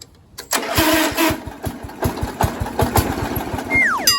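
John Deere 100 lawn tractor engine cranking and catching, a close, loud rapid chugging that sputters unevenly as it starts and runs, with a brief rising whine near the end.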